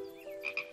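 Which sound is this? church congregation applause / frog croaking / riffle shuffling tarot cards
frog croaking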